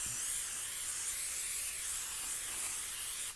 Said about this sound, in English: that was probably about 4 seconds worth of a spray